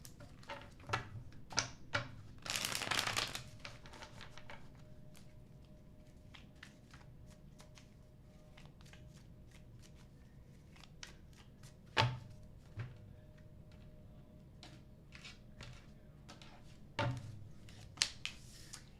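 A deck of tarot cards is shuffled close by and quietly, with one loud riffle burst near the start followed by soft ticks, slides and taps. Two sharper knocks stand out later, and no one speaks.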